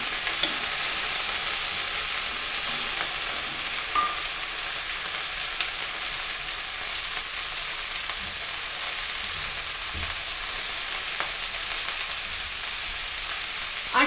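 Broccoli frying with garlic in a pan gives a steady, close sizzle that runs unbroken throughout, with faint stirring scrapes and no talking.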